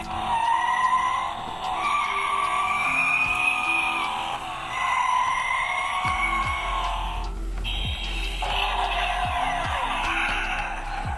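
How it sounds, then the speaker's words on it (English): An electronic Batman toy car from Spin Master or McFarlane plays its nitrous ignition sound effect: a looping synthetic siren-like engine whine, then a tonal shift to a revving roar with rhythmic low pulses, loud and close. "Now the nitrous has been ignited."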